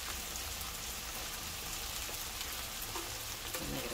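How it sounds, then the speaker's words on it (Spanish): Beans and broth bubble at a steady boil in a pot, a dense continuous sizzling, popping texture heard close and unbroken throughout, with no talking. "Vamos a agregar caldito y todo esto para que esté hirviendo muy bien"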